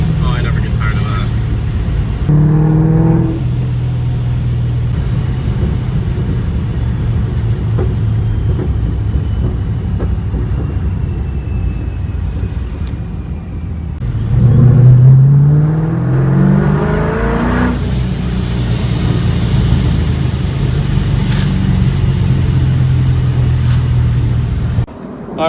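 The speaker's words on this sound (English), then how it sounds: "I'm just driving around the residential area trying to heat it up a little bit." A car with a Procharger supercharger is driven through a residential area, its engine droning steadily with rising revs and two clear gear-change sweeps, while someone talks over it for much of the time.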